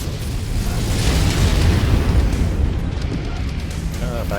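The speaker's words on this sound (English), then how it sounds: "Incoming missile." Missile explosions in MechWarrior 5: Heroes of the Inner Sphere, a sustained deep rumbling blast that stays loud for several seconds and then fades slightly, with speech faintly underneath.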